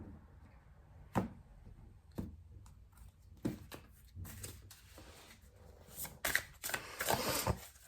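Tarot cards are shuffled by hand at close range, with irregular papery riffles and slaps that grow busier and louder toward the end.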